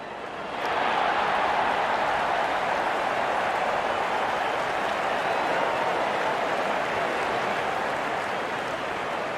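Cricket ground crowd applauding and cheering as the opening batsmen walk out, a steady wash of clapping that swells up after a quiet first moment and stays even throughout.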